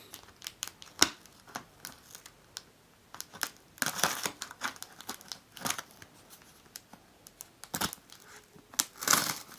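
A taped package is opened by hand with bursts of crinkling, ripping and tearing of tape and packaging, irregular and close, with quiet gaps between the louder rips.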